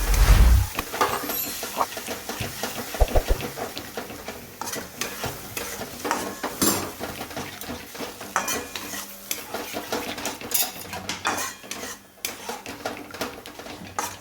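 A yogurt mixture is stirred into frying masala in a pan with a spoon, scraping and clinking against the metal under a steady oil sizzle, continuous and close with no talking.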